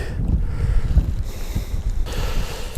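Wind blowing on a Dnipro riverbank on a cold, overcast day, heard as loud gusty microphone buffeting with low rumbling, uneven across the short stretch.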